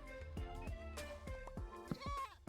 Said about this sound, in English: And we'll take a little baby goat.